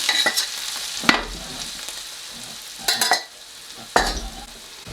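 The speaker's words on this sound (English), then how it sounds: "Next step is to gently stir them in." Saag aloo with mustard seeds and garlic being stirred in a hot pan: a constant close sizzle punctuated by several sharp scraping strokes of a spoon against the pan's base.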